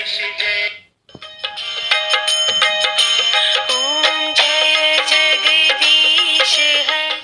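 A bright digital pen plays a tinny, sustained melodic Hindu devotional chant with shifting tones, loud and continuous after a brief opening beep.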